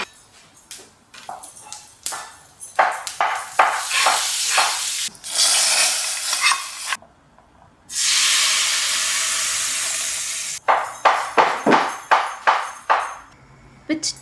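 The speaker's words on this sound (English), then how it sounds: "For the tadka, a tablespoon of sesame oil, mustard seeds, urad dal, fenugreek seeds, red chili and hing." A tadka of sesame oil, mustard seeds, urad dal, fenugreek seeds, red chili and hing sizzles loudly in repeated crackling bursts, broken by a sustained steamy hiss of frying.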